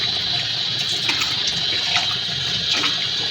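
Water is poured into a pot of sambar made with field beans, giving a steady close splashing rush that keeps going through the whole moment with no pauses and no voices.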